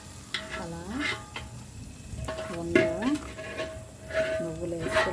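Ariselu, rice-flour sweets, frying in hot oil with a bubbling sizzle, repeated spoon or ladle scrapes and clinks, and occasional voices in the background.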